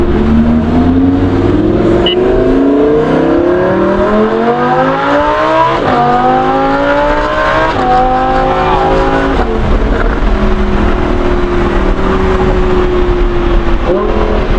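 A Lamborghini with a Ryft exhaust revs repeatedly, rising and dropping through gears, with crackling pops between pulls; loud and close throughout.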